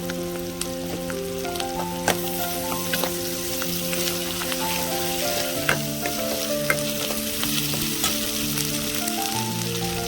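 Ginger garlic paste frying in a pan, a loud steady sizzle and crackle lasting the full span with scattered pops and stirring, while soft background music plays, no speech.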